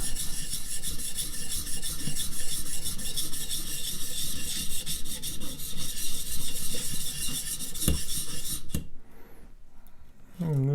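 A steel chisel is rubbed back and forth along a sharpening stone, making a continuous close gritty rasp. The rubbing stops near the end and a few faint clicks follow.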